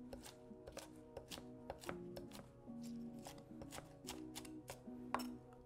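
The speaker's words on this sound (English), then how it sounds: "so let's keep chopping" A knife chops Italian chopped sandwich fillings with pepperoncini on a cutting board, giving steady, close, rapid repeated thuds and clicks with no talking, against a faint background hum.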